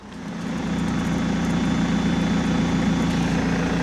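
A BMW E46 3 Series engine idles with a steady, loud, low rumble that settles in right after starting and holds an even drone throughout.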